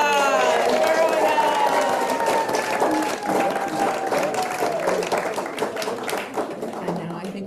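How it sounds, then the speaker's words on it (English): Congregation at a worship service breaks into applause, sustained clapping with voices calling out over it, gradually thinning toward the end. "let's give our champion a round of applause"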